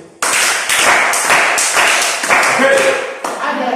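A live audience at a French-language motivational talk bursts into dense, sustained applause that starts abruptly and stays loud and steady to the end, with voices mixed in.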